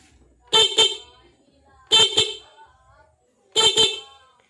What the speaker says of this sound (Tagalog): Dali magkabit ng passing light sa busina.